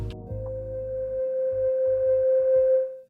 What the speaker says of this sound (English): when I turn up the attack, for example, the sound will fade in slowly